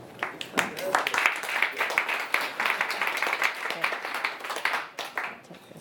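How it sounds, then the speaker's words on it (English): A crowd claps steadily in dense, continuous applause, with voices mixed in beneath the clapping. "Let's give Valerie a much more energetic applause."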